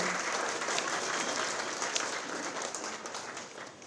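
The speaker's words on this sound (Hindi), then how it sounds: "तालियां बजनी रहनी चाहिए ना" Steady applause from a group of colleagues during an employee-of-the-month awards ceremony in a news channel office, a dense continuous patter of clapping that fades slightly toward the end, with no talk over it.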